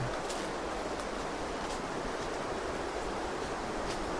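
River water flows through a forest at the headwaters of the Cai Cibentar, a steady, even rushing wash that holds constant throughout without any voices.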